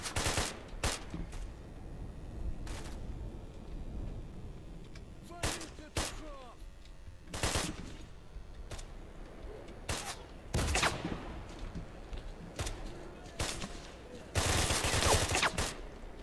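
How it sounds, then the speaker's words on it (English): Enemy fire crackles through S.T.A.L.K.E.R. Call of Chernobyl as repeated sharp gunshots and short bursts spread across the clip, some close and loud, others softer, with a heavy barrage near the end. "Oh god, they're shooting at me."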